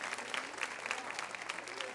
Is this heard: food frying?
no